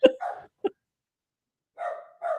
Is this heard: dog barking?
yes